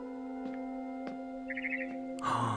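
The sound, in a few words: barn swallow chirping, from video game What Remains of Edith Finch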